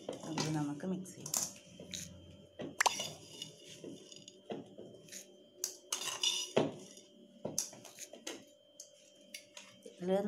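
Spoon stirring an avil milkshake of flattened rice and milk in a glass, giving repeated light clinks and taps against the glass at an irregular pace, with brief quiet talk in between.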